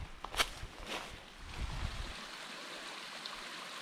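Mountain creek flowing beside a hiking trail, a steady broadband wash of running water heard close by throughout, with a few footsteps or scuffs early on.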